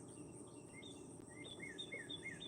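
Birds sing outdoors at sunrise after a thunderstorm, giving repeated short, bright chirps in quick phrases over a constant faint insect buzz at a distance.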